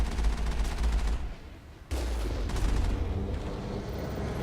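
Heavy machine gun bursts in Mass Effect 1, rapid dense rattling fire that cuts out briefly for a moment of quieter background before a second loud sustained burst resumes.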